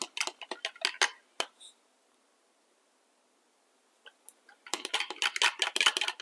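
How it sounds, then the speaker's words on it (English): A utensil clicks and taps rapidly against a bowl while a plant-based cookie mixture is stirred, in two bursts separated by a quiet gap, close and fairly crisp. "And we'll stir that."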